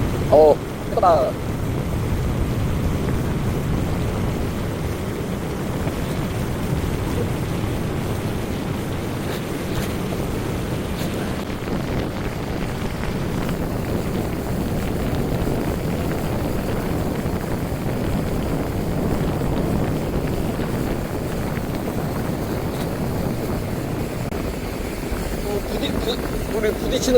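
Steady wind roar and rushing water noise fill a fast boat ride at sea on calm water, heard from a rear-facing seat while a patrol speedboat passes ahead. A faint voice is briefly audible near the start.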